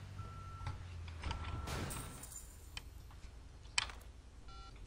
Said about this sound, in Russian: Здесь можно звонить по телефону, как в GTA-шке.